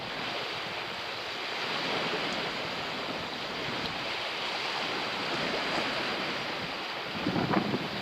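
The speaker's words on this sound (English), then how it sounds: "because this is obviously the windy side of the lake" Wind gusts across the exposed side of Lake Bala while rough waves lap and churn, a steady, dense wash of surf and wind buffeting on the microphone with no voices.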